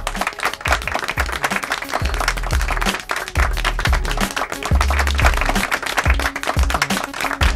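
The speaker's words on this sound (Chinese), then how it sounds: "鼓掌" Scattered hands clapping at a company board meeting after a unanimous vote, a dense patter of claps running steadily throughout at close range, with no talk over it.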